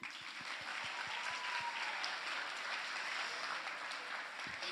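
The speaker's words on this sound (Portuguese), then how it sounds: "Uma salva de palmas para a Vicky." A crowd applauding in a church gathering, a dense sustained clapping that fills the whole stretch at even loudness, with a few low thumps underneath.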